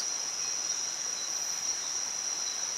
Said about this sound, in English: Listen to the sounds. Scream, and then the crickets.